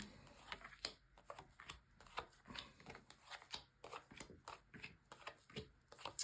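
Tarot cards being shuffled in quick repeated riffles and flicks, close and crisp, with short bursts and pauses between them and no voices.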